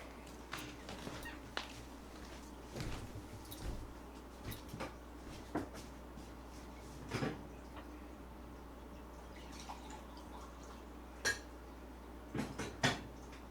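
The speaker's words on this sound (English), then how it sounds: "Let me This just refill my cup of coffee real quick" Sparse clinks and knocks of a coffee cup and kitchenware come through at close range as a cup of coffee is refilled, scattered across a quiet background hum.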